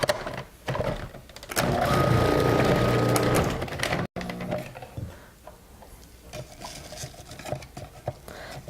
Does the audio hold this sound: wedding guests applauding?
no